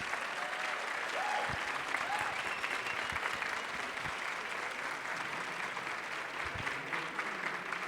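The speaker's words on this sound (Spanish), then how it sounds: "ahora sí, venga el aplauso." Applause from a lecture audience after an osteopathic medicine talk, a steady, moderately distant clapping that holds evenly for several seconds with a few louder individual claps.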